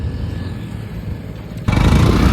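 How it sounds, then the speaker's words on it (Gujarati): A motorcycle engine runs steadily while the bike is being ridden, then grows abruptly louder and rougher partway through as it accelerates, with no voices over it. "આપણે બાઈક કાઢી છે એરિયા."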